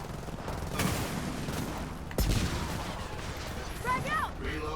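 Gunfire in Gears of War 4, with dense bursts of shots and sharp cracks over a constant rumble of battle, plus a metallic clank, loud and busy across the scene.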